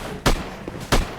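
Two sharp gunshots from a firearm in the video game Dark Souls 3, about two-thirds of a second apart, loud and close, with a faint smaller report between them.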